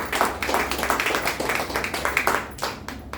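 An audience claps loudly and steadily for Vidya at an event, a dense round of applause lasting the whole stretch and tapering slightly near the end.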